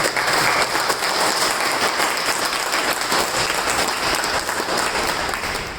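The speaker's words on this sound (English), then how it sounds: "let's give a round of applause to all our friends and family who have helped us come up" A small meeting audience claps together in a steady, loud round of applause lasting several seconds, even and continuous without speech.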